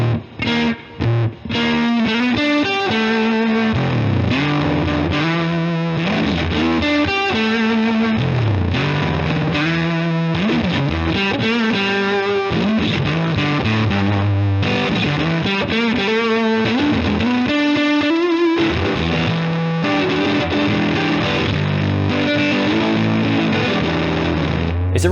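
A Strat-style electric guitar rips through bluesy, rock-flavored riffs with distortion and effects, loud and continuous for the whole stretch, dense chords and fast runs with no voices.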